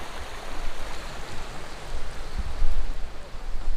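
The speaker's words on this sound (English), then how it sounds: "Rain's coming down." Steady rain hisses near the American Falls, a dense, even wash of water noise that swells slightly partway through, with no voices.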